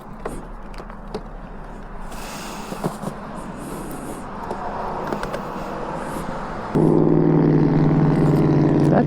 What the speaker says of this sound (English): That truck is loud as shit